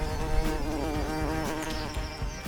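A dense, steady buzzing of many bees at a beehive, continuous and close, with a droning hum that swells slightly but never stops.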